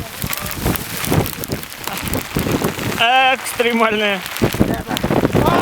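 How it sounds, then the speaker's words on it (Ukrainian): Hail and gusty wind on the summit of Bolshoy Iremel mountain, heard as a dense, continuous patter of hailstones on surfaces with wind noise buffeting the microphone, close and loud, while people talk and exclaim over it. "И тут неожиданно начался град."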